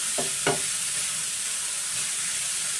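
Chopped vegetables sizzle in a pan as filling for stuffed samosa dosa, a soft steady frying hiss with two short stirring scrapes near the start and a faint one later, no talking.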